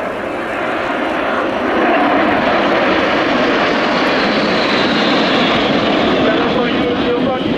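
A single-engine two-seat jet aircraft performs a display at the Royal International Air Tattoo air show, its loud continuous roar swelling and holding steady as it passes, with a voice talking over it.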